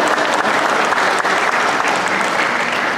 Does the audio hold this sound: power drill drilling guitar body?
no